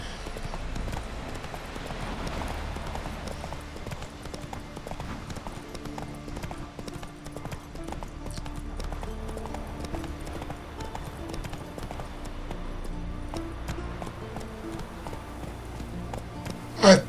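Steady clip-clop of horse hooves in The Witcher 3: Wild Hunt, an even trotting rhythm that runs close and clear through the whole stretch over faint game ambience, ending on a brief louder knock.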